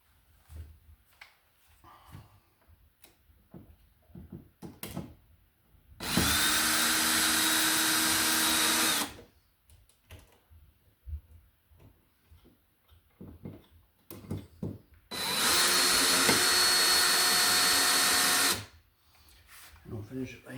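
Power drill driving screws into an electrical box while installing MC cable for surface wiring: two sustained whirring bursts of several seconds each, loud and close, separated by quiet handling noises and soft talk.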